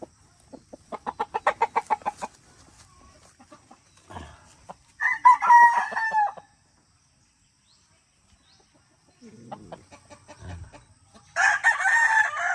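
A gamefowl rooster, a golden boy sweater and white kelso cross, crows loudly and close by several times, with a burst of rhythmic clucking at the start and quiet pauses between the calls.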